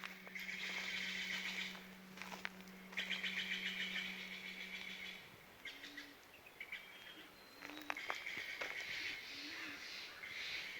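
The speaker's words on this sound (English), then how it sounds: "Can you hear all these birds?" Birds singing at dawn around 5 a.m. in Doane Valley Campground on Palomar Mountain, a layered chorus of chirps and trills at moderate distance, with a low steady drone beneath.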